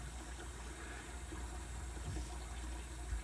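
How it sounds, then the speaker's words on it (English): Tap water running steadily into a bathroom sink, a constant low rushing hiss with no break across the few seconds. "My sink actually didn't hold my water, so I got to get some in there."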